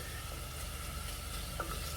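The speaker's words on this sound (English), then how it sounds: "Get that bacon sizzle." Bacon sizzles steadily in a pan, a constant hissing crackle at low level with no talking.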